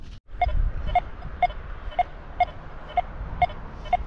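A metal detector sweeping a field around a medieval village site gives a steady run of short, regular electronic beeps, about two per second, fairly close and clear over faint background noise.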